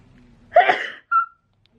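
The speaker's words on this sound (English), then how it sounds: "I'm gonna sneeze" A single close sneeze, a sharp burst followed by a short, breathy squeak afterward.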